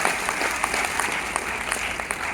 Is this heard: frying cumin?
no